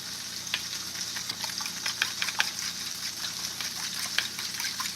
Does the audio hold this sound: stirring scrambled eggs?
yes